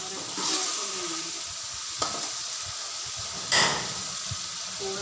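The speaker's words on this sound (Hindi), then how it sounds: "उसके बाद डालेंगे हल्दी 1 चम्मच, और अच्छी तरह से भूनेंगे" Spices with turmeric frying in a pan while being stirred, a steady sizzle with a few brief scraping clinks and louder bursts.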